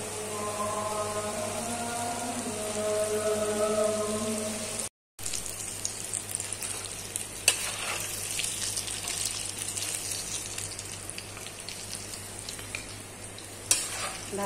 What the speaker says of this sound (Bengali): আমি এখন ভাজতে যাব।